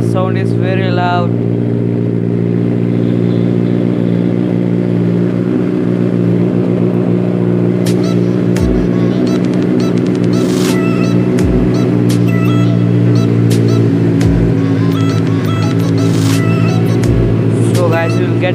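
Benelli TNT 600i motorcycle engine with XL 60 silencers, idling loudly and close with a steady throbbing rumble, then blipped through several sharp revs in the second half.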